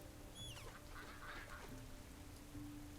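A duckling quacks faintly in World of Warcraft: Dragonflight, a few soft peeping calls set in a steady hissing ambient backdrop.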